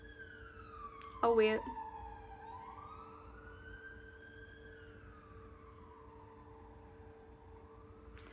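Emergency vehicle sirens wail faintly in the distance, slowly rising and falling over several seconds, with a brief spoken remark near the start.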